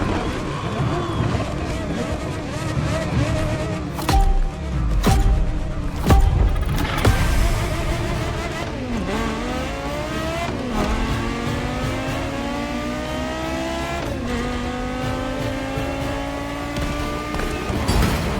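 A Porsche Carrera GT's engine revs in the racing game The Crew Motorfest, climbing through rising shifts with a sustained high-pitched wail. Someone talks over the engine for much of the stretch.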